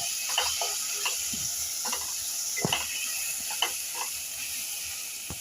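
Ginger, garlic, green chili and coriander sizzle steadily in hot oil in a pan for masale bhat, a constant bright hiss broken by a few soft stirring clicks and taps, close and alone.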